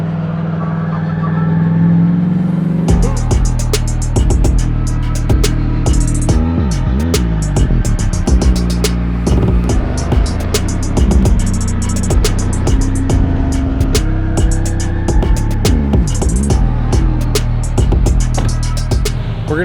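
A Ferrari 458 V8 drives hard on a canyon road, its engine loud and close with rising and falling revs through gear changes and crisp high-pitched wail over a constant deep drone.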